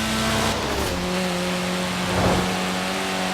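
A Lotus Elan sports car engine in the racing game Forza Horizon 4 drones loudly and steadily, shifting pitch as it revs, with a brief swell near the end.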